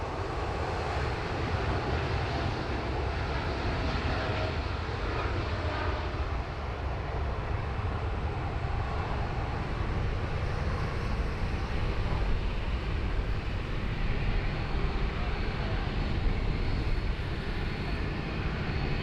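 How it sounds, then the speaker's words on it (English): An airliner at Sydney Airport taxies close past and then departs heavy on a long takeoff roll, a loud, steady broadband jet roar that holds for the whole stretch with wind noise and no talk. "we'll still get the nice close taxi past"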